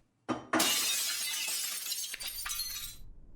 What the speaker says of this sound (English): The glass hit the floor.